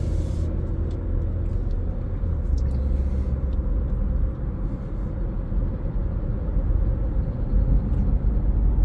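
A car accelerates through a lane change on the road, a steady low engine rumble and road noise from inside the cabin, continuous with no talk.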